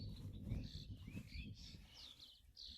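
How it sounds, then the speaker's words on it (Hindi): Small birds chirp outdoors in a quiet natural setting, several short high tweets and calls scattered through the clip over a low rustle of wind and ambient noise. "चिड़ियों की चहचहाहट"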